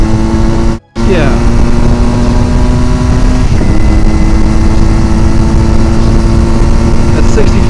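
Motorcycle engine drones loud and steady at speed on the road, with a brief dropout and a shift in pitch partway through, heavy wind noise throughout.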